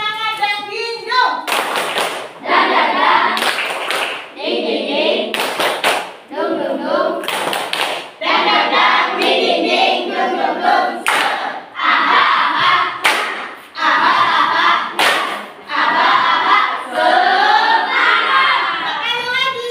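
Children in a classroom play a clapping game, bursts of group clapping and slapping in rhythmic bouts repeated through the stretch, mixed with their chanting voices and a teacher speaking.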